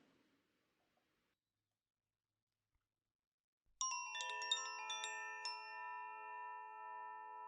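A meditation gong struck once after near silence, a bright metallic strike that blooms into a long, steady, shimmering ring sustaining to the end, close and clear, no voices.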